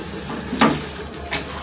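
Beef liver masala frying in oil in a pan, a steady close sizzle with a couple of brief scraping stirs.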